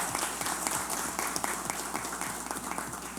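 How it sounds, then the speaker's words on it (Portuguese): Sustained applause fills a solemn assembly session honoring the church's 25th anniversary, steady and dense clapping from a large crowd with no break throughout. "pedir uma moção de palmas ao nosso presidente por toda essa dedicação"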